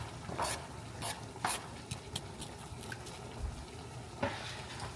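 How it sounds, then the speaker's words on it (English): Onions sautéing in a pan with hamburger meat, producing a low steady sizzle broken by several stirring scrapes and knocks, close but fairly quiet and free of talk. "We're gonna saute these up real nice."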